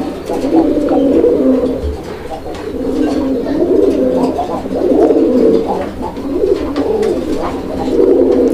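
A pair of Raj-Gola pigeons cooing close by, with repeated soft rolling coos in a steady rhythm and no talk over them.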